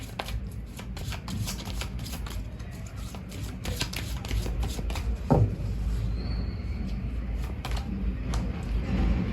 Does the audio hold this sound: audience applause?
no